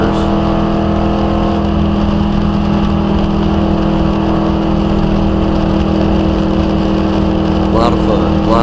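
A NASCAR stock car engine drones loud and steady at high revs during hot laps at Michigan International Speedway, heard from inside the car as a continuous in-cabin roar with no breaks.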